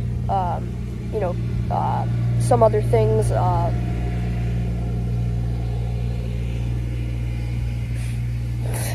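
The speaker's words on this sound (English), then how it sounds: "Your good car just went by." A car passing outside, a low, steady rumbling drone that swells and fades behind someone talking close by throughout.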